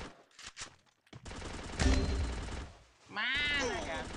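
Gunfire in the mobile battle game Free Fire: several quick bursts of shots and cracks, with continuous game effects and a sweeping synth tone near the end, a mid-level mix without clear talk.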